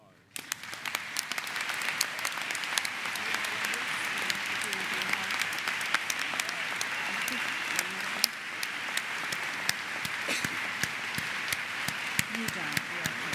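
Sustained applause from a large audience at a morning plenary gathering, steady and dense throughout with crisp individual claps standing out, fairly close and continuous.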